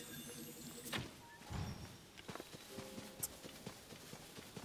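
Horse hooves clip-clopping in the video game Zelda: Tears of the Kingdom, a quick run of light hoof thuds and clops at close range with a few sharper knocks mixed in, over a quiet game soundscape.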